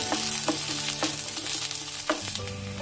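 Onions fry over a medium flame in a pan for bhindi masala, giving a continuous close sizzle with several distinct stirring scrapes and clinks spread through it.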